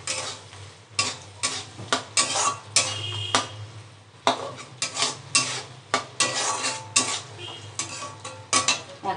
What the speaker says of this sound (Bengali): দেখো ঢাকাটা আমি আবার একবার খুলে নিলাম, খুলে মশলাটা ভালো করে নাড়াচাড়া করে দিলাম।